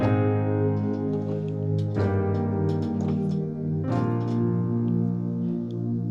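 An electric guitar strums a slow preacher chord progression in C through reverb and effects, chords changing every couple of seconds, full and sustained without any voices.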